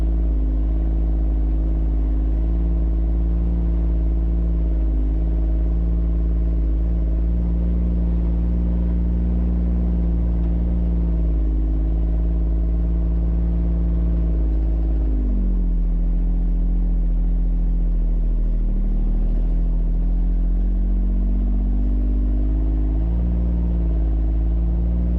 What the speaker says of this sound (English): Two-wheel drive there. Old Gator gets through, no problem.